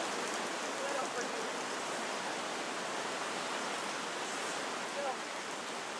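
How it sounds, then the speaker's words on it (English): Heavy rain pours in a dense, constant hiss that stays steady and loud throughout, with no breaks and a few faint rises in the texture. "It's just raining so much."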